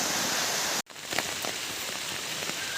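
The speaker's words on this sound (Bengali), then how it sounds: "আজ প্রচণ্ড বৃষ্টি হচ্ছে" Heavy rain pours down in a village, a dense steady hiss of drops on surfaces that cuts out briefly near the start, then returns at full strength.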